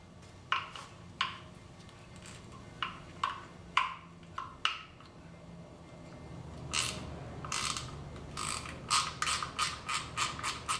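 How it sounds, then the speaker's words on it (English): Ratchet clicking in short bursts as front 10mm bolts are loosened on a Nissan KA24DE engine during teardown, several separate spurts of rapid ticks, then a steadier run of clicks near the end, close and clear with no talk. "now we'll go ahead and remove the front 10mm bolts"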